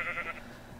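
A giant sheep in the Minecraft Gulliver mod gives a short, fairly loud bleat lasting under a second, heard on its own with no talking.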